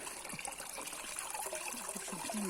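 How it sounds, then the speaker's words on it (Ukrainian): Water trickles from a spring in a forest, a close, steady babbling dribble that runs continuously and alone, with no voices. "О, Водичка тече."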